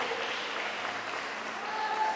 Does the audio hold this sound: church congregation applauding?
yes